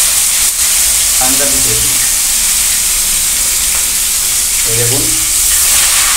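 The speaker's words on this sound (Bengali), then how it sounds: "মাছটা ভাজছি, দেখতে পেয়েছেন?" Fresh rohu fish sizzles loudly and continuously as it fries in oil, a steady bright hiss throughout with a voice talking briefly over it.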